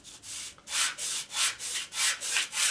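A 1947 Harley-Davidson EL knucklehead pump surface being sanded by hand on coarse grit, with about eight steady rasping back-and-forth strokes, close and fairly quiet, no voices.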